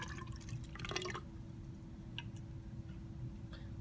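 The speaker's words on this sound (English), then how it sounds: "Now I'm gonna pour my next solution." A liquid solution poured into a container during a density and viscosity experiment with layered liquids: faint drips and a thin trickle over a steady low hum, quiet and close.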